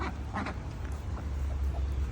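Pet ducks in a backyard give several soft, scattered quacks at a moderate distance, over a low steady outdoor rumble.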